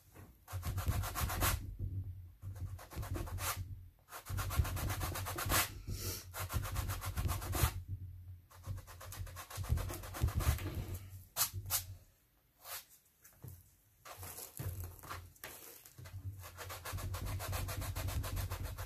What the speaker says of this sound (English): I just want to slowly sand down that really big lip right there.